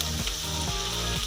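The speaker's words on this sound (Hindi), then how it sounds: "इन सबको हम इकट्ठा ही ब्राउन करेंगे।" Cumin and nutmeg sizzle steadily in hot oil in a pan as they are browned until dark for a paye dish, a continuous close frying hiss with no talk.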